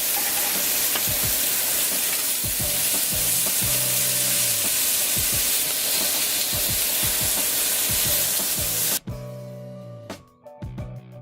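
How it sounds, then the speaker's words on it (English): Vegetables seasoned with spices sizzle and fry loudly in a hot greased pan, a steady hiss with scattered crackles and stirring clatter, cutting off abruptly near the end. "Just throw them right onto the..."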